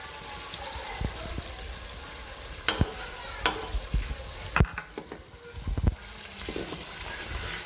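Yogurt going into mutton karahi in a hot pan, with stirring, scraping and sizzling, punctuated by sharp clanks of a utensil against the metal pot amid a constant frying hiss.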